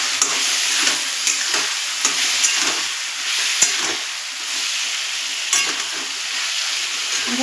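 Oil sizzles loudly and steadily in a pan with turmeric and black pepper powder, as frying for a rice dish carries on under regular scraping stir strokes, close up with no voices.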